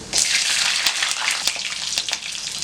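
Ginger, cumin, pepper and garlic crackle and sizzle in hot oil for a tamarind kulambu, a dense, steady hiss close by with scattered sharp pops and no voices.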